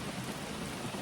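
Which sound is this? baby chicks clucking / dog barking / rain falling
rain falling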